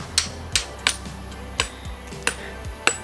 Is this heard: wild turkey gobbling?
no